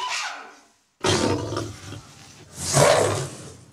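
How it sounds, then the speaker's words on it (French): A lion roars in a French audio story set in a jungle, two loud, rough bursts separated by a brief silence, alone with no talk over it. "Ça, c'est un lion se dit-il."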